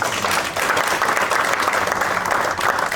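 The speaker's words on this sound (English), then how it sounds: "Let's give him a round of applause." An audience at a conference on AI and the Zimbabwean economy gives a speaker a round of applause, a loud, dense burst of clapping filling the room throughout.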